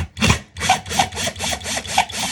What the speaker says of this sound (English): grab my drill. This has a 3/8 inch drill bit